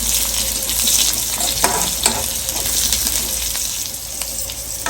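Cumin and black pepper fry in ghee for a Havyaka tambuli, making a loud, steady close-up sizzle with occasional small pops and stirring scrapes and no talking.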